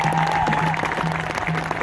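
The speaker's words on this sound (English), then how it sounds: "let's give a big applause to all of those that have stood there at Standing Rock," Outdoor rally crowd in Washington DC in support of Standing Rock breaks into applause, a dense patter of clapping lasting under two seconds with a faint tonal hum in the background.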